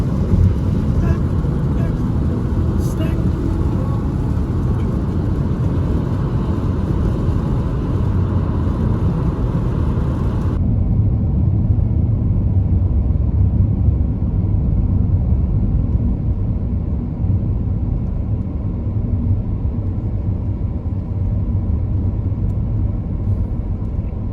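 Inside a car on a road trip in Europe, a steady low engine and road rumble drones throughout, with wind noise; the higher hiss drops away partway through, and no one speaks over it.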